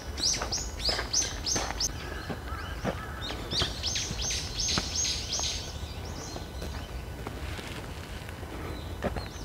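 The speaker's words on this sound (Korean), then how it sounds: "도심 한복판에서 이런 새소리를 듣기가 상당히 어려운데 여기 오면은 정말 조용하고" Birds chirp and call in quick repeated bursts, bright and fairly close at first, then thinning out over a quiet, calm background at the Yunggeolleung royal tombs park in Hwaseong, South Korea.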